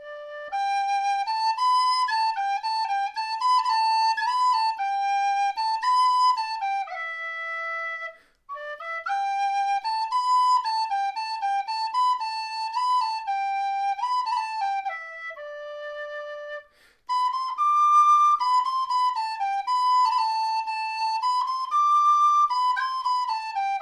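A tin whistle plays the tune MacPherson's Farewell solo, clear and close, with pure, bright sustained notes in flowing phrases broken by two brief breath pauses.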